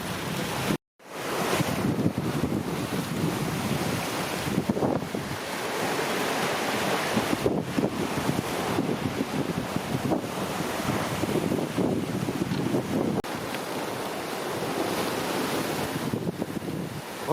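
Strong wind roars across the microphone and waves wash steadily around a JPK 1010 sailboat racing offshore in about 25 knots of wind, a loud continuous rush with no voices.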